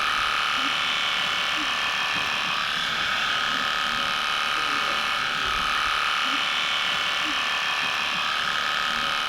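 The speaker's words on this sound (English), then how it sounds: "I can take the clipper and groom carefully from top to bottom." An Aesculap Econom Equipe horse clipper runs through a horse's coat with a continuous close electric buzz, holding steady for the whole stretch with faint low sounds underneath.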